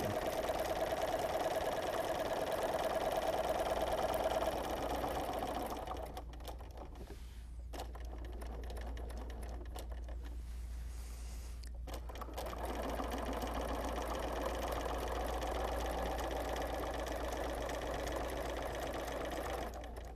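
A sewing machine runs steadily during free-motion quilting, its fast needle chatter going on continuously at an even speed, close and fairly quiet, easing off in the middle before picking up again.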